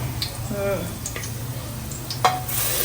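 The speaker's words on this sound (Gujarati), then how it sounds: "પછી લીમડો ને મરચું લીમડો અને મરચું પછી લીલું લસણ" Curry leaves, chili and green garlic hit hot oil in a tempering with cumin, cinnamon, cloves and star anise, giving a close crackling sizzle with scattered ticks and stirring clinks, a sharp spurt near the end.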